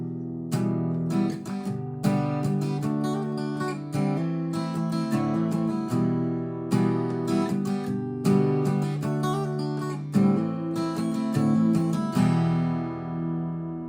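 Acoustic guitar plays the intro of a five-chord song, with steady strummed chords in a close, loud, continuous rhythm that rings out at the end.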